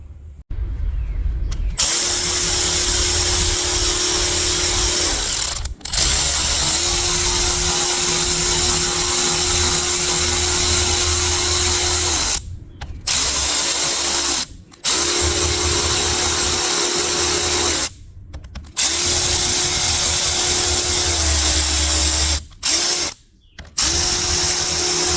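A power drill backs out the 8mm bolts on a car AC compressor, giving loud, close whirring bursts, several separate runs split by short pauses, with no talk.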